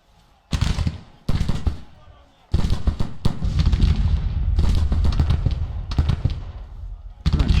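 Gunfire in the Grand Tactician: The Civil War strategy game, heard as loud bursts of crackling shots and booming volleys that come in separate clusters, then build into a sustained roll of battle fire.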